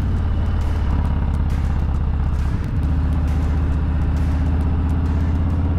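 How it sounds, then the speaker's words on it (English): A 2022 Harley-Davidson Lowrider S with a black chrome Bassani 2-into-1 exhaust rumbles steadily while decelerating, a loud, close, continuous low burble with a brief dip partway through. "listen to the decel pop on the bike. It's not a decel pop, it's just a decel sound"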